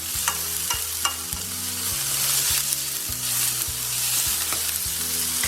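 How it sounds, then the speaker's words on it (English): Carrots and capsicum sizzle in a hot pan for vegetable fried rice, a loud, continuous frying hiss with a steady low hum and occasional scraping stir strokes. "we're going to add our capsicum. Give that a stir."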